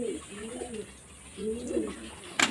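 Pigeons coo in two low, rolling bursts near a loft at feeding time, fairly close and moderately loud, followed by a brief sharp clatter at the end.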